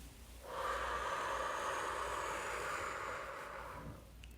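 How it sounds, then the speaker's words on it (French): A slow, deep breath drawn in through the nose during a guided relaxation exercise, heard as a soft, airy rush that swells and holds for about three seconds before fading, close and quiet with no talk. "Encore une fois, inspirez et soufflez."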